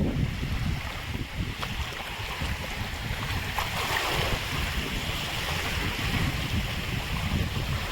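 Small, gentle sea waves wash steadily onto Poompuhar beach where the Kaveri meets the sea, a continuous soft surf rush with wind buffeting the microphone and no voices.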